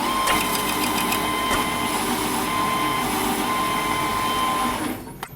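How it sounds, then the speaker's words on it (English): A metal lathe cuts a chamfer on both faces of a 148 millimeter steel disc, giving a steady, continuous close-up machining whine with scraping grind that runs for about five seconds before stopping abruptly. "Chamfer both sides of the disc."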